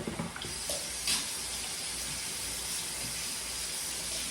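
Steady broadband rush of water pouring from a kitchen tap as hands are washed, continuous and fairly close, with a few faint splashes and clatters near the start and no talking.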